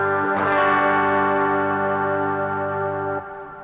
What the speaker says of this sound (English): here, of course, is the Bigsky reverb. So I have here just a big hall,